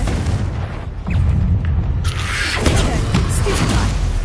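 A Confringo blasting spell goes off in Hogwarts Legacy as a loud booming burst that rolls into a sustained, crackling roar. Game clatter and background noise come before it.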